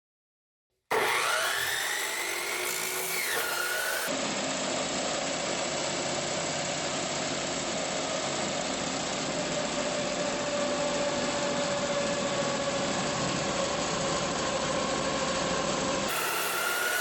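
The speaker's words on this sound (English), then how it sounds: "we'll take it to the saw and we'll cut our axle down" A power saw cutting through a steel axle for a mini trike build, a loud continuous grinding whine lasting about twelve seconds after a brief spin-up, then winding down.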